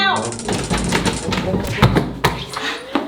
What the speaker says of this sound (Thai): ยายจะเคาะอะไรตั้งหนาเนี่ย